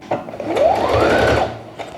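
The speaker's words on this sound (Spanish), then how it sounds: "yo voy a pasar aquí una puntadita rápida con la máquina de coser" A sewing machine runs a quick short stitch along the edge of a cork tote bag, a loud close whirring burst that rises and settles over about a second, with a few brief mechanical clicks around it.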